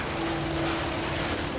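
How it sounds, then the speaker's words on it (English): Heavy rain pours down in What Remains of Edith Finch, a dense, steady hiss of falling water with a faint low hum underneath, unbroken and without talk. "Rain came down in buckets then"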